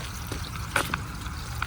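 Water trickling and splashing steadily in a small solar-powered patio water garden, a soft continuous flow with a few brief brighter splashes, heard up close with no talking.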